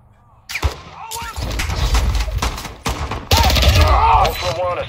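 Gunfire in the DMZ video game, with repeated loud, sharp shots and bursts cracking over a dense rumbling battle, including a heavier volley near the end, while a voice is faintly heard underneath.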